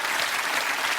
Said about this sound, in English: Justine, you deserve a round of applause.